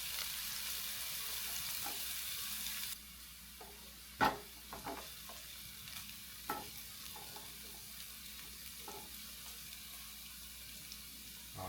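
Chopped onion sautéing in a pan, heard as a low steady sizzle broken by a few sharp clinks and scrapes of stirring, with a brief louder hiss at the start.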